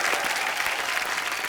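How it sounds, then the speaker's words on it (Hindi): A studio audience at a Hindi comedy talk show bursts into loud, dense applause, a continuous wash of many hands clapping close by. "एक बार ऋषि सर और नीतू मैम के लिए जोरदार तालियां हो जाएं।"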